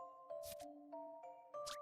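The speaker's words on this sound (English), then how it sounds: "Ring the bell and send the signal to Randall" Short tuned bell tones ring in the Professor Layton video game, three soft chimes at different pitches, each with a bright struck attack, quiet and alone.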